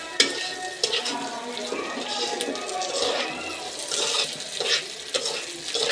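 Red lentils (masoor dal) sizzle and crackle as they fry in a pan for a dal bhuna, a steady close hiss with scattered stirring and scraping sounds throughout.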